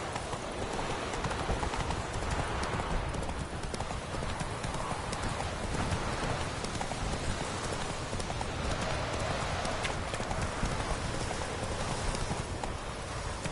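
Roach the horse galloping in The Witcher 3, a fast continuous drumming of hooves held loud and close throughout over a dense rushing wash of noise, with no talking.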